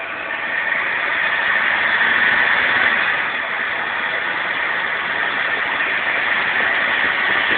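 A 1988 Chevy 1500 pickup truck's engine runs steadily with a muffled, continuous hum heard from inside the cab and a slight swell near the start, with no talk.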